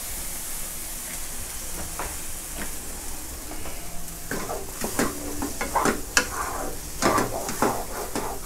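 Egg and pepper stir-fry with fish sauce hisses in a hot pan, the sizzle growing busier as repeated sharp scraping strokes of a spatula clatter through the second half.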